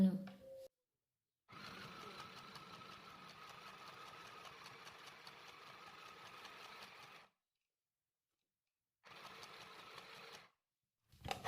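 Mini sewing machine stitching in two bursts, a steady whirring run of about six seconds and then a shorter run, with quiet pauses between and a brief voice at the start.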